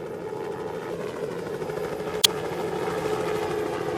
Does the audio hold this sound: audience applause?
no